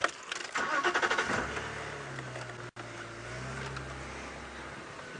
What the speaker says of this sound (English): I can swing the car for you. Let me just move it a little bit.